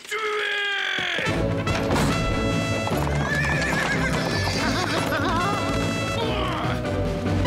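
Loud thundering hooves of horses galloping together, with shrill neighs and whinnies rising over the dense, crashing clatter.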